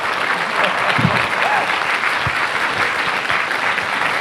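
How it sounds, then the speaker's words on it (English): An audience at a convention interview applauds steadily, a dense even clatter of clapping that holds for several seconds, with a voice or cheer briefly rising above it. "please, a round of applause for Sophie Aldred, Lisa Bowerman, and of cou"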